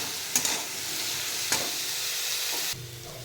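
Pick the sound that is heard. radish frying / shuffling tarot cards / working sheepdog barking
radish frying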